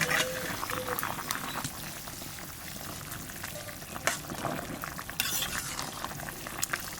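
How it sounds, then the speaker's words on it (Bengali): Rohu fish goes into a simmering plantain curry, giving a continuous low bubbling sizzle broken by a few brief splashes and clinks, close and moderately loud throughout. "তরকারি প্রায় হয়ে গেছে, এখানে মাছ দিয়ে দেবো।"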